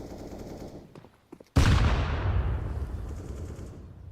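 A grenade in Counter-Strike goes off with a sudden loud blast partway through, after faint gunfire and game noise, then rumbles and slowly decays over the following seconds.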